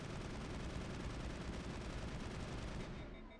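Sustained gunfire in a sci-fi shooter firefight on the icy world of Noveria, a dense continuous barrage that stays loud throughout and cuts off abruptly near the end.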